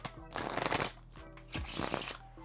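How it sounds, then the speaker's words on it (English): Cards are riffled and shuffled in two quick bursts, a fluttering ripple of paper snapping close by with a short pause between them. "we're gonna give it a shuffle"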